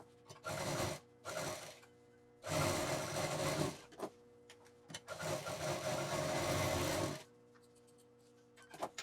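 A domestic sewing machine stitches fabric for a handmade sling bag in three separate runs of rapid, close mechanical whirring, with quiet pauses between them.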